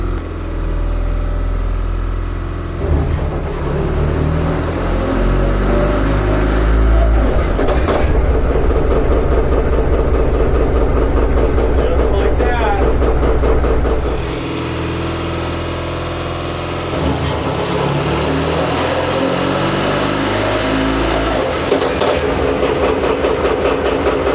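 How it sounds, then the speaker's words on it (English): On a 1956 John Deere 80, the pony motor drives and starts the diesel engine with a loud, continuous rumbling chug. The pitch and intensity shift as the engine spins up and the decompression is released, and no one speaks. "I'm going to engage the pony into the diesel, let the throttle rip."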